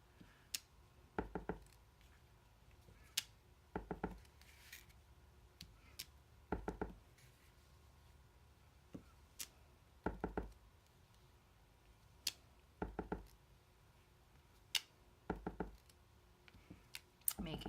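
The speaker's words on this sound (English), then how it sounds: "we're going to start by stamping on the card base first." A rubber stamp taps quickly and repeatedly onto a card base, in quiet clusters of two or three close knocks spread over a soft background.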